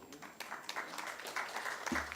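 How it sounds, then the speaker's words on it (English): Faint, continuous applause from a conference audience for a presenter at a closing panel, a brief wash of many hands clapping at a distance. "Please, another round of applause."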